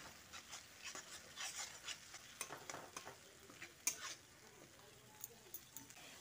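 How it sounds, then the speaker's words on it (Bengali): A paste of ginger, tomato and green chilli fries softly in a pan for a yardlong bean dish, quiet sizzling under repeated scraping stirs and a few light clinks of a spoon. "আদা, টমেটো, কাঁচা লঙ্কাটা দিয়ে একবার ভালো করে নেড়ে চেড়ে নিচ্ছি।"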